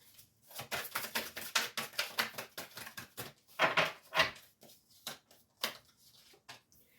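Rapid papery riffling in bursts, several quick shuffles of tarot cards up close, with brief pauses between runs.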